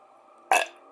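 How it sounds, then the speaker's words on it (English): A single loud, abrupt belch bursts out close up, lasting only a fraction of a second before fading back to a faint steady background hum. "Belch. Uncontrollably."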